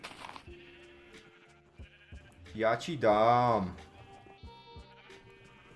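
Video game sheep bleat loudly for about a second, a wavering, nasal cry set among soft game sounds, with brief speech before it.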